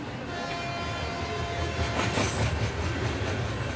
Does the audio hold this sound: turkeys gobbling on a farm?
no